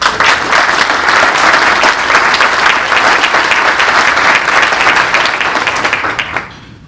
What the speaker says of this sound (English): let's give them a round of applause for all the work